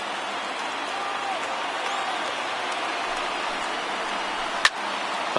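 A large stadium crowd of over 39,000 in the MLB 19 The Show baseball video game roars steadily on their feet with two outs in the ninth, a dense continuous wash of cheering with one sharp crack near the end.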